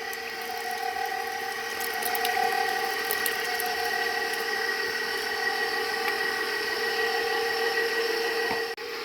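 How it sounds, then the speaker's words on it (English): An electric mixer runs steadily on low speed through muffin batter as buttermilk is added, a constant close whirring motor drone with a faint clunk near the end and no talk. "We'll turn on our mixer to low and we will add the buttermilk."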